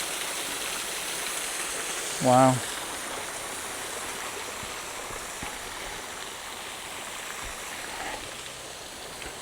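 Water pours over the overflow at Knypersley Reservoir, a steady, even rush that fills the whole scene, broken once by a brief spoken exclamation.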